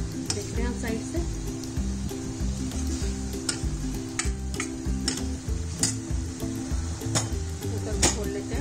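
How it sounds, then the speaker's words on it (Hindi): Steady sizzling of spice masala frying in hot ghee for dal, with a spoon scraping and stirring in the pan throughout, close and continuous. "घी अलग होने तक भूनते हैं इस मसाले को। चलाते हुए भूनेंगे"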